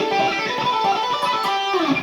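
Electric guitar playing a minor pentatonic run picked in a long-short-long rhythmic pattern, a quick sequence of bright sustained notes, close and clear with no talk.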